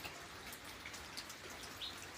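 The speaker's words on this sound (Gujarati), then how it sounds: "કેમ કે બારિશ ચાલુ છે, વરસાદ ચાલુ છે" Heavy monsoon rain falls steadily and close by, a dense, even patter of drops hitting surfaces with no voices.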